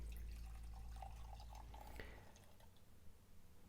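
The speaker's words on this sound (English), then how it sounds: "let's pour ourselves a nice glass" Red wine pours into a glass, a soft, quiet trickling stream for about two seconds that tapers off into faint drips.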